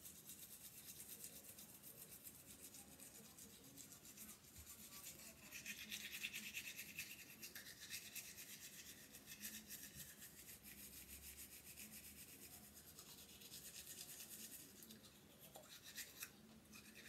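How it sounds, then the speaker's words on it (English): A toothbrush with toothpaste scrubs teeth in quick, continuous rubbing strokes, faint and close, keeping a steady rhythm throughout. "Squeeze a little toothpaste on, just like that, and just brush everything"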